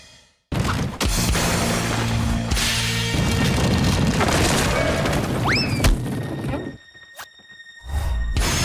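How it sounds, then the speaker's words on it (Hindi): A loud cartoon explosion from an animated series: a sudden broadband boom that rumbles on for several seconds, with a whistling rising tone partway through, before cutting out and briefly returning. "धमाका।"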